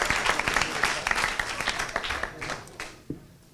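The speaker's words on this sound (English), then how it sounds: "how about a round of applause for our parent volunteers for all of their hard work and dedication" Audience applause for parent volunteers at a school board meeting, a dense patter of clapping that holds steady, then thins and fades toward the end.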